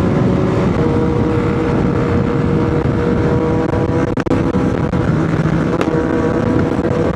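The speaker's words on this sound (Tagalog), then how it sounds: "Grabe yung tunog ng muffler ni Michael." A motorcycle with a loud aftermarket muffler revs on a group ride, its exhaust roaring close and steady, with a couple of brief dips in the throttle and no talking.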